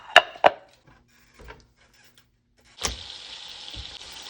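Cooked steak is sliced on a cutting board. Two sharp knife knocks come first, then a few softer taps, and after a pause a louder cut leads into a sustained hiss.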